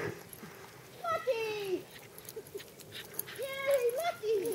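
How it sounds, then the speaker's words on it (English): Dogs whine and yelp in a couple of rising, wavering bursts amid lively background chatter and movement. "Here come the dogs"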